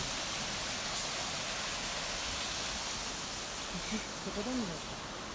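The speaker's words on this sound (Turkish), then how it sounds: "Çok güzel bir şelale." Steady broadband rush of a waterfall at Turkey's Hoçaş fossil forest fills the scene, continuous and close, with a faint voice briefly surfacing near the end.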